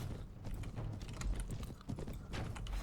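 Horse hoofbeats from the video game Mount and Blade: Warband (Prophesy of Pendor mod), rapid galloping clip-clop close by and fairly faint, mixed with battle clatter.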